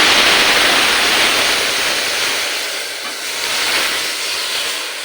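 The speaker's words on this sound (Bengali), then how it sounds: "ফোড়নটা হয়ে গেছে ফোড়নটা থেকে সুন্দর একটা গন্ধ বেরিয়েছে এবার দিয়ে দেব সেদ্ধ করে রাখা ডাল" Boiled masoor dal is poured into hot mustard-seed tempering for a sour dal made with green mango. A loud, dense hissing sizzle erupts at once and slowly eases while still roaring close up.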